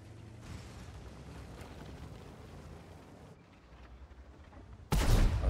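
A tank cannon fires in a World of Tanks style game involving a T-100 LT light tank, the sharp, loud blast arriving suddenly near the end after a steady stretch of engine rumble and low distant firing.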